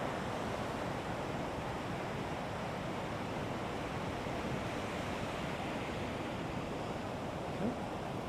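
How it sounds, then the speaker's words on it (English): Ocean waves wash onto the shore on a calm fall morning, a soft, steady roar of surf with slight wind noise and no voices. "Got a little bit of waves even."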